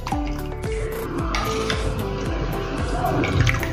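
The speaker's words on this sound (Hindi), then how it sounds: "ऐसे इतना पानी डालना है" Water pours into a thin batter of raw rice being mixed, with repeated gurgling, sloshing splashes close by in a steady rhythm, and no talking.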